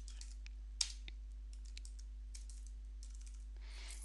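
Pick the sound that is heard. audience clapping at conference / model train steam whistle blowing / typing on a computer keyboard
typing on a computer keyboard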